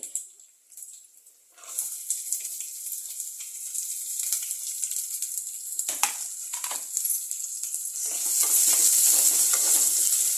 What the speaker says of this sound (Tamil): வெங்காயம் வந்து வதங்கட்டும்